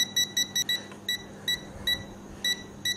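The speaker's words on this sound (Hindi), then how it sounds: "ये मीटर इसलिए बीप दे रहा है" A UNI-T UT33D+ palm-size digital multimeter emits short, high electronic beeps in an uneven pulsing pattern, some in rapid clusters and others spaced apart, clear over a quiet background.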